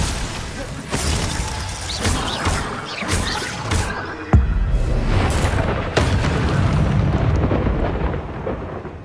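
Confringo spell explosions from the video game Hogwarts Legacy: a string of loud, booming fiery blasts and crashes, several sharp bursts followed by rumbling tails that overlap into a dense, continuous roar of combat noise.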